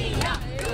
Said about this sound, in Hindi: ये जो हूटिंग हो रही है, this must be really discouraging